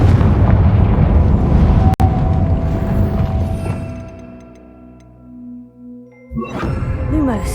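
A Confringo fire spell explodes in Hogwarts Legacy, a loud broadband blast with a sharp crack near two seconds, then a rumbling decay with ringing magical tones fading before another burst of effects.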